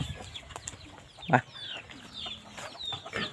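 Chickens and a rooster cluck on a farm in the early morning, with a sharp louder call near the middle and softer clucks around it, close by over light background noise.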